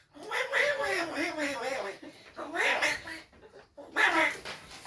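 A person imitates Donald Duck in three quacking, raspy bursts of nasal voice, close and loud, separated by short pauses.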